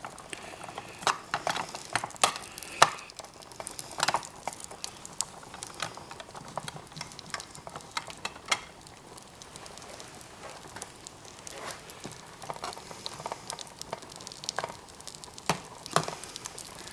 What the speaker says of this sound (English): So right now my focus should be over on the bacon, frying the bacon.